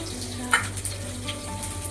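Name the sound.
onion frying in a pan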